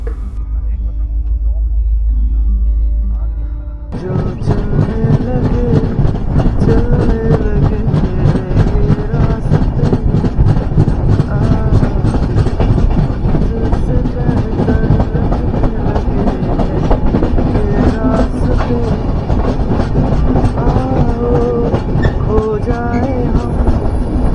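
A passenger train runs toward NJP station in North Bengal with a steady rhythmic clickety-clack and deep rumble, loud and close, after a few seconds of low hum before it starts.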